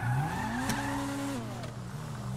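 A car driven in Grand Theft Auto V revs with a rising and falling engine tone, shifting gears as it accelerates, steady and close with no voices over it.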